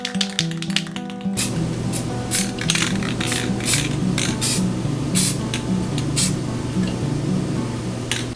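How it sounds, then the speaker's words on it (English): Satin charcoal gray spray paint hisses from an aerosol can onto a mini fridge in short repeated bursts, loud and close, with no talking. "I'm going to dust just a little bit of this satin charcoal gray."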